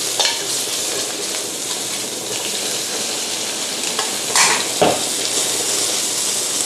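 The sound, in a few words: stir-frying noodles with bacon in a pan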